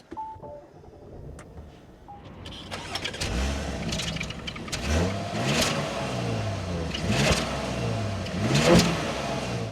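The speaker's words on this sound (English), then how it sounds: "But let's start this up and take a listen to how it sounds." A 2026 Audi A6 Prestige engine cranks and fires after a few quiet clicks, then settles into a steady, close idle with a slight flare of revs near the end; no one speaks.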